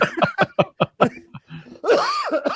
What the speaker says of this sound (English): with the cough, I'm about to lose a lung